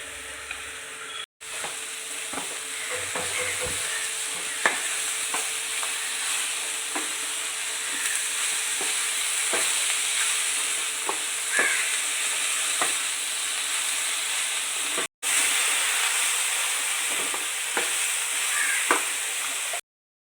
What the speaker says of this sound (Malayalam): കടലപ്പരിപ്പും വറ്റൽമുളകും എല്ലാം മിക്സാക്കിയ കൂട്ടിലേക്ക് നമുക്ക് മത്തനില ഇട്ട് എല്ലാം കൂടി ചേർത്തങ്ങ്